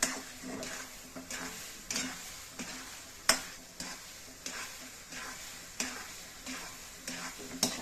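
Sweet semolina sheera being stirred in a kadhai, heard as a regular rhythm of scraping strokes over a soft sizzle, close and fairly quiet, with a single sharper clink partway through and no talking.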